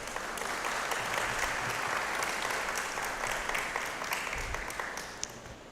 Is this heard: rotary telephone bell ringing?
no